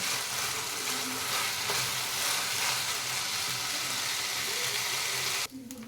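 Rice fries in a pan with onion for jeera rice, a steady, close sizzle with faint stirring scrapes that holds evenly for several seconds before dropping off abruptly near the end.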